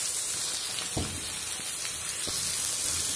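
Raw fenugreek leaves frying in hot oil give a steady, close sizzling hiss that runs through the whole stretch, with a couple of soft thuds as the leaves are moved about in the pan.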